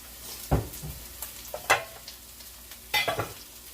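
Dumplings in a pot of ackee and saltfish give off short, spaced crackles and clatters, a few louder pops standing out over a low quiet sizzle, with no talking.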